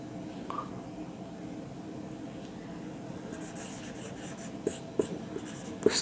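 Pen scratching on paper while working out a pressure and density problem, a faint steady stroke sound over low room hum, with a few sharper taps near the end.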